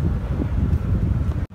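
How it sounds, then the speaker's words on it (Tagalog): Strong wind buffets the microphone outdoors near a supermarket, a loud, continuous low rumble with gusty swells and a brief dropout near the end. "grabe ang lakas ng hangin,"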